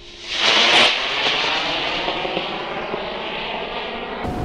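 RC rocket plane flying after its rocket engine fires, a loud broadband roar that swells at once and then holds a steady rushing drone through the rest of the pass before cutting off abruptly.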